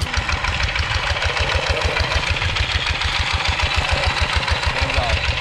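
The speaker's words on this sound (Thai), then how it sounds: "ใช้รถแบบนี้ครับรถไถเดินตามเครื่องยนต์ดีเซลครับ" A diesel walk-behind tractor pulling a two-row corn seeder with fertilizer dispenser runs steadily nearby, its engine thudding in a fast, even low-pitched rhythm with a rattly mechanical clatter throughout.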